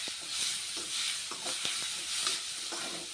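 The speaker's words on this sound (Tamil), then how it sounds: "ரெண்டு பெரிய வெங்காயத்தை குட்டி குட்டியாக வெங்காயம் லைட்டாக வதக்கிடலாம்" Chopped big onions, with green chilli and curry leaves, sautéing in a pan for a squid gravy, a steady close sizzle with periodic scraping stir strokes, no talk.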